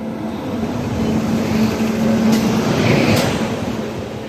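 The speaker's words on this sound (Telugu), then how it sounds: "Nagarsol Narasapuram super fast express." A Nagarsol–Narasapur superfast express hauled by a WAP-5 locomotive with ICF coaches rumbles steadily, a loud low droning hum with a sustained tonal whine, heard from close by or onboard with no talk.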